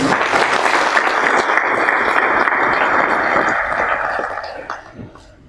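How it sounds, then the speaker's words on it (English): Sustained applause from an audience at a meeting of chief executives and senior officials, a steady dense clatter of many hands that fades out toward the end, with no talking over it. "So let's give ourselves a round of real good applause,"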